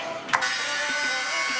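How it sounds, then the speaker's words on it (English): A portable Harbor Freight bandsaw cuts pieces out of steel for a conference table base, giving a steady, continuous mechanical whine with a few faint low knocks. "Use a bandsaw, portable bandsaw."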